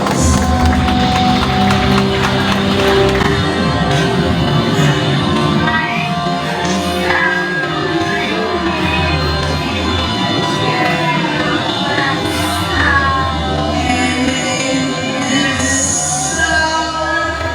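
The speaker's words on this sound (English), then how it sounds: "A round of applause." A crowd at a Filipino debut party applauds and cheers for the celebrant's father, steady clapping mixed with shouts and whoops under festive background music throughout.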